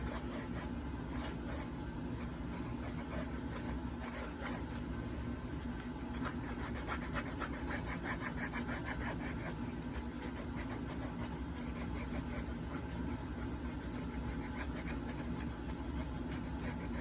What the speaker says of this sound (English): The water and friction is what you're doing here is getting all those fibers to bond, so it gives you a nice smooth slick edge